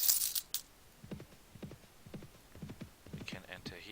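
Horse hooves clopping in the Mount & Blade video game, Prophesy of Pendor mod, a soft irregular run of hoofbeats with a few sharper clicks at the start and end.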